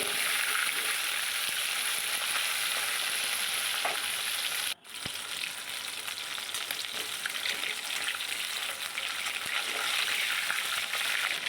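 Pomfret fish fry in a pan of hot oil, giving a steady, close sizzle with crackling throughout, briefly cut near the middle before the frying noise resumes at full strength.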